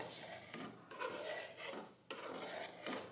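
A spoon stirring moraiya kheer in a pot makes faint, rhythmic scraping strokes, about four or five rasping sweeps separated by short pauses.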